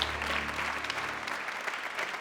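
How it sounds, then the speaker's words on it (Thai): A game show studio audience claps steadily, a dense wash of applause that gradually fades. "และขอเสียงปรบมือดังให้กับคุณช่วยนะครับ"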